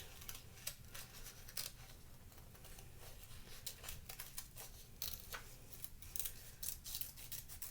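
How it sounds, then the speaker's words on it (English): Scissors snip through paper while cutting out paper hand shapes for a St. Nick craft, a continuous run of close, crisp crunching cuts at a soft level with no speech. "You can go ahead and cut out your hands if you'd like."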